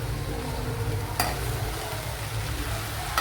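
A spoon stirs chopped okra thoran in a hot pan, scraping steadily against the metal over a continuous soft sizzle, with one sharper clink partway through.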